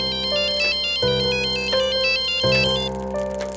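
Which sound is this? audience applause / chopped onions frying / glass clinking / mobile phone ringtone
mobile phone ringtone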